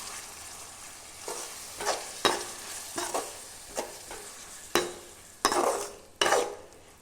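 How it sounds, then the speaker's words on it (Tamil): Tomato, onion and green chilli sauté in a pan with a soft, continuous sizzle, punctuated by several sharp scraping strokes of a spoon stirring, each one louder and closer, with no one talking. "இது தக்காளி நல்லா மசிஞ்சு வதங்கி வரட்டும்"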